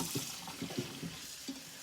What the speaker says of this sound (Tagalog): And, lagyan natin ng tubig.